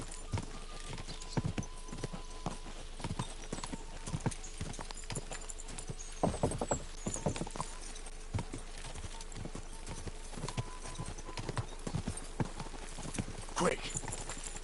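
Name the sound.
horse hooves galloping in video game Kingdom Come Deliverance 2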